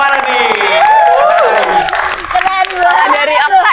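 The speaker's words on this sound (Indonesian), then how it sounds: "Tepuk tangannya dulu dong, mana nih?" A studio audience claps and cheers at a talk-show recording, loud and close, while hosts keep talking over the applause.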